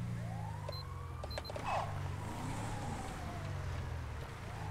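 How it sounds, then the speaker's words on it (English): Police siren wailing in the LSPDFR video game, a continuous rising and falling tone sustained at steady loudness throughout, with engine rumble underneath and a few brief chirps. "So that's where the siren has been."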